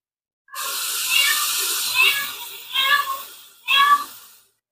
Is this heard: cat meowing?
yes